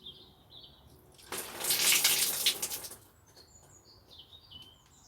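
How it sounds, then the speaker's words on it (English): Water drains in a brief splashing pour from a container of soaked pepper seeds, lasting under two seconds. Light bird chirps sound in the background before and after. "So once you've had these soaking overnight, you just need to drain them."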